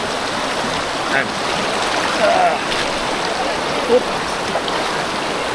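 Clear water of the Nambalan River in Tarlac rushing steadily in a constant wash, loud and near, with a few brief voices calling out over it.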